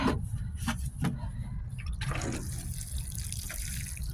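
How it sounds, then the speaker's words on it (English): Water pours from close by onto potted plants outdoors, a steady trickling and splashing with a few louder drips and spatters, and no talking. "I'm going to give them just like a little lick of water here."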